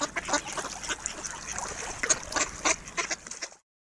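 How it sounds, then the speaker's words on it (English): Cartoon duck quacking from the preschool iPhone puzzle game Shape Builder, a rapid run of bright, nasal quacks and honks repeating for about three and a half seconds, fairly close and alone, cutting off abruptly. "Duck."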